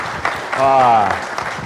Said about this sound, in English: join me in giving a warm round of applause and welcome to Mr. Ed Skoudis